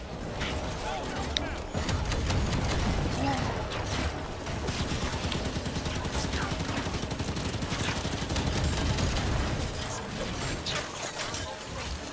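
Sustained gunfire in the video game Halo 5 during a firefight on a gravitational core, dense rapid shots and crashes filling the scene for about twelve seconds, with voices talking over it.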